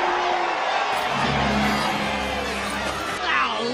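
A crowd of townsfolk cheers and whoops at a royal announcement in an animated story, a bright, lively roar that swells briefly near the end, with voices mixed in.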